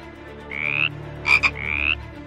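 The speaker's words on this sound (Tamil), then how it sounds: "ஃப்ராக்ஸ்." Frogs croaking in three loud, drawn-out calls, each a rising buzzy trill, the middle one a sharper double burst, with faint low background hum and no voices.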